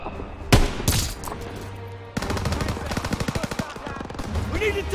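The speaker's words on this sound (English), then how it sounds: "Gunfire! We must be near our guys." Gunfire in the Call of Duty WWII video game: heavy single shots early, then a long rapid machine-gun burst with rhythmic repeating reports and battle noise.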